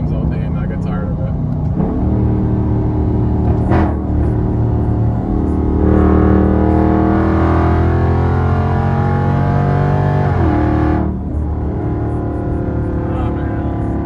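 A cammed Dodge Scat Pack with the 392 engine revs hard at high RPM, its loud, rumbling exhaust note climbing and sustaining before dropping back near the end, close and continuous.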